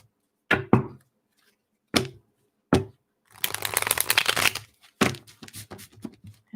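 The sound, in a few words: tarot cards being shuffled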